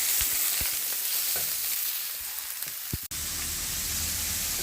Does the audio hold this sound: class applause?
no